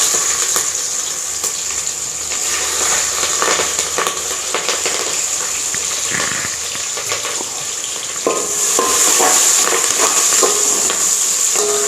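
Whole spices, onion and green chilies sizzle steadily in hot oil for chicken dum biryani, a loud, continuous close frying hiss with occasional stirring scrapes and a brief surge near the end.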